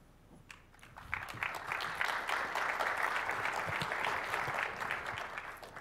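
Audience clapping at a conference session, starting sparse and quickly swelling into sustained, moderately loud applause from a large hall.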